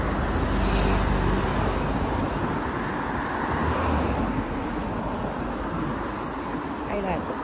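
Cars pass along a busy road in a continuous loud traffic roar, with vehicles sweeping close by the roadside and a voice speaking over the noise.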